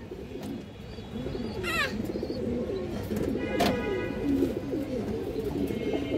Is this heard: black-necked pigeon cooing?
yes